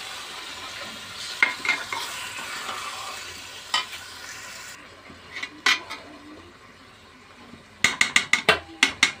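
Beef goes into spiced masala in a pan and fries with a soft ongoing sizzle, broken by scattered scrapes and clinks of stirring that end in a quick burst of repeated metallic taps against the pan.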